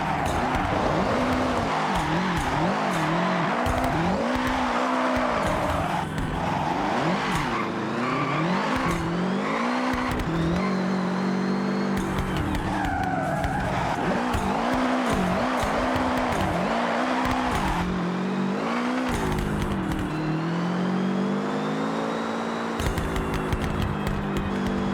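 A Mitsubishi Evo set up for drifting in Forza Horizon 6 howls at high revs, its engine pitch sweeping up and down with repeated tire squeals and skids throughout, loud and continuous with no talking.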